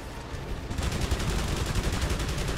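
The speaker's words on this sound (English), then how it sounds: "The cannons make it so much easier." Aircraft cannons fire in the flight combat game Wings of Prey, a fast rapid-fire burst that starts abruptly and rattles on steadily and loudly to the end, with no talking.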